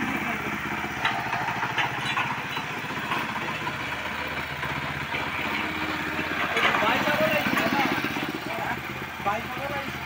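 A scooter engine idles steadily with a low, continuous putter beneath a voice talking close by the whole time.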